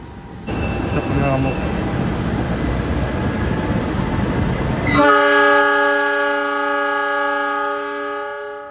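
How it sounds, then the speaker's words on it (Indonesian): Argo Bromo Anggrek executive train pulling out of Bojonegoro station, a broad steady rumble of rolling cars that swells and then gives way to a loud sustained horn-like tonal blast over the noise. "kereta api Argo Bromo Anggrek udah berangkat dari stasiun Bojonegoro"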